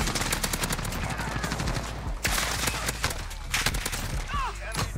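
Rapid bursts of AN-94 rifle fire in the shooter Modern Warfare, loud and close, with brief pauses between volleys and chatter of players faintly under the shooting.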